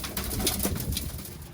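Young Birmingham Roller pigeons feeding on pellets, giving soft, continuous low cooing close by with faint shuffling and a few brief higher chirps, no talk.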